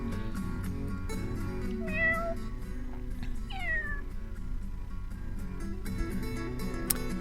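Kittens meowing in the video game Dwarf Fortress, two clear rising mews around the middle over a steady busy bed of game music and ambience, with a sharp click near the end.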